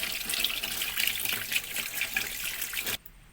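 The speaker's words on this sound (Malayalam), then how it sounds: "ഇങ്ങനെ വെള്ളം ഒഴിച്ച് ഇങ്ങനെ കഴുകി വിടുകയാണെങ്കിൽ" Water poured over fish pieces as they are washed, a steady splashing stream that cuts off abruptly just before the end.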